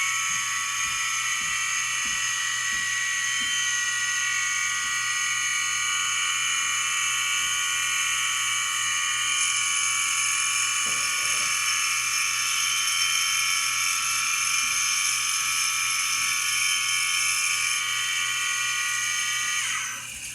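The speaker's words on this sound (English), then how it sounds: "instead of drilling it, I used an end mill" An end mill cuts through a crooked drilled hole, giving a steady, loud high-pitched machining whine that runs unbroken for about twenty seconds with a faint low hum beneath and no voices.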